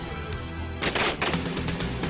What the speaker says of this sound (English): short fire bursts